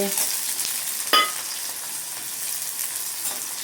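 Onions fry for plain pulao with a continuous bright sizzle. A sharp scrape of stirring sounds about a second in, and soft stirring continues under the hiss.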